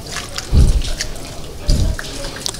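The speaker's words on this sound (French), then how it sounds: "maintenant nous allons rincer le corps" Water pours in two short splashing bursts as a body is rinsed during Islamic ritual washing, close by, with faint dripping between the pours.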